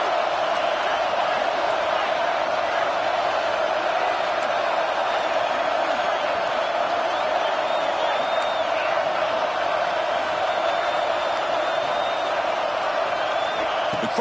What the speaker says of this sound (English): The crowd is roaring, trying to help this defense on 4th down.